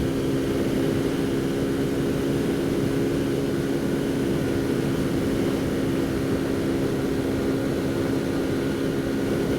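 A Kawasaki Z125 Pro motorcycle engine holds a high, steady RPM whine in third gear, loud and continuous throughout, with no speech.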